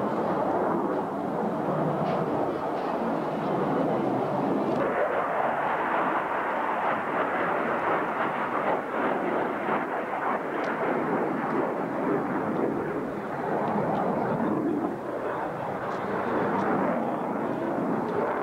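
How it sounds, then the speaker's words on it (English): An F-15 Eagle fighter jet passing overhead, a loud continuous roar with broad rumbling noise holding steady for many seconds, with faint voices underneath. "An F-15."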